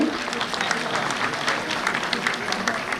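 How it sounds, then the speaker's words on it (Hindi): Audience at a national award ceremony in a large hall applauds, a soft, even wash of many hands clapping somewhat distantly, with a faint murmur underneath. "थोड़ी तालियां बजा दें मनोज तिवारी जी के लिए।"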